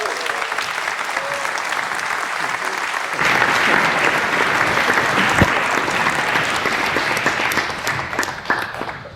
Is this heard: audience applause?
yes